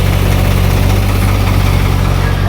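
A tractor hitched to a trolley for hauling soil idles loudly and close, a steady deep hum with a strong low drone and constant vibration.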